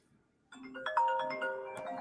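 A phone ringtone chimes for an incoming call, a melodic electronic tune starting abruptly after a short quiet pause and playing on steadily, clear and fairly close, with no talk over it.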